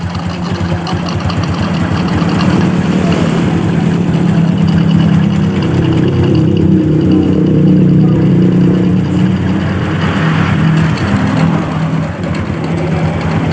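The rebuilt Honda Revo Absolute motorcycle engine ticks over at idle close by, a loud, steady, even chug that runs unbroken with only slight shifts in tone.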